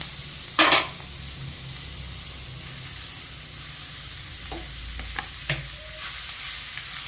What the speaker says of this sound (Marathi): कांदा छान परतून झालेला आहे आता आता टोमॅटो टाकून घेऊया